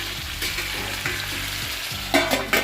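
Potato, bottle gourd and green chili with salt and turmeric sizzle in a pan, a steady frying hiss broken by stirring scrapes and a couple of louder sputtering bursts near the end, with no talking.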